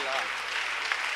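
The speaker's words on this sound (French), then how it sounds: "Applaudis très fort le Seigneur Jésus." A church congregation claps loudly for Jesus during a worship service, a dense wash of applause filling a brief moment with voices mixed into the crowd noise.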